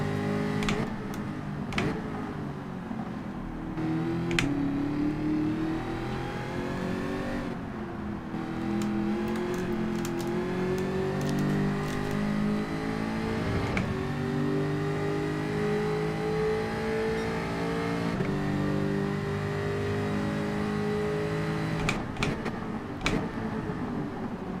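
Race car engines in Gran Turismo 7, a Group 4 daily race at Grand Valley Highway 1, drone steadily throughout with rising and falling revs and a few sharp clicks, loud and continuous with no talking.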